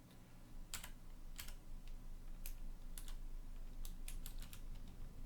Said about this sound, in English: We're going to hit spacebar.